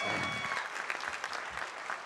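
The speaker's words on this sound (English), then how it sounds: "Give them a big round of applause." Applause from an audience at a Harvard Graduate School of Education convocation for the graduating class of 2016, a fairly faint, diffuse wash of clapping heard from a distance.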